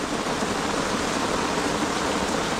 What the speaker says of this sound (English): I'm just gonna relax and listen to the sound of this rain.